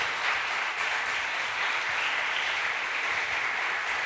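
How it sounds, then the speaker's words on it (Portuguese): A church congregation claps together in a dense, even wash of applause that holds steady throughout, fairly distant and moderately quiet, with no voices standing out. "Você pode dar um aplauso a Ele com muita ousadia?"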